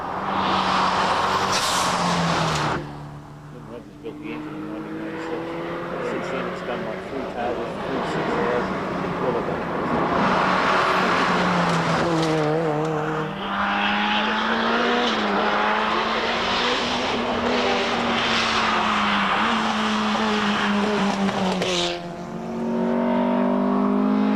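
A Mazda RX3 race car fitted with a Nissan 200 SX engine runs at speed in a Targa tarmac rally, its engine roaring and shifting pitch steadily and loudly, with a commentator speaking over it throughout.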